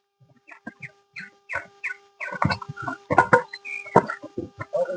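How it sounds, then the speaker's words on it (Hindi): Birds chirp and cluck in short, uneven bursts along a steep mountain trail climb, growing louder and busier toward the end, with some voices mixed in nearby. "पक्षियों की सुंदर आवाजें हमें सुनाई दे रही है।"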